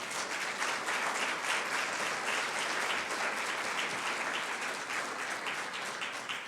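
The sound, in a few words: church congregation applauding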